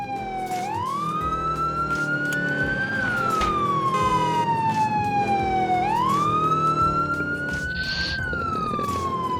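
A fire engine's wailing siren rises and falls in slow sweeps, loud and close over traffic noise, with a brief horn-like blast near the end.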